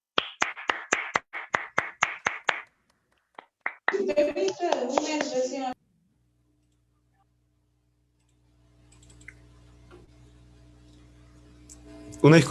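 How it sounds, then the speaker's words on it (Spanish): Applause at a Peruvian school event for a student from Colegio Felipe Guamán Poma de Ayala in Chosica: a short run of about ten sharp, evenly spaced claps, a few stray claps, then a dense burst of hands clapping that stops abruptly before a faint hum. "Lo recibimos con fuertes aplausos."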